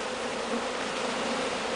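A swarm of about 10,000 honeybees drones in a dense, steady buzz as a package is installed into a hive, a continuous close hum with no voices.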